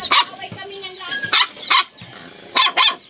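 A dog barks in several sharp, close bursts at a rural hut where a chicken is also kept, with short gaps between barks and a high thin tone running underneath.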